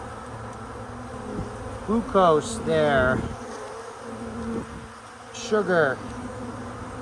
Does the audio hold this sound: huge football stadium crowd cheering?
no